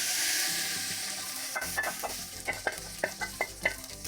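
A spoon stirs Punjabi village-style saag in a pot, a soft hiss giving way to a run of distinct scraping strokes that grow rhythmic and close, with no talking.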